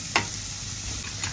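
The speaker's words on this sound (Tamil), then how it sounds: "முட்டை பொரிக்கிறது நல்லெண்ணெயில் பொரிக்க டேஸ்ட்டாக இருக்கும்" Egg frying in sesame oil makes a steady, soft sizzle with a couple of faint ticks, heard alone and fairly quiet.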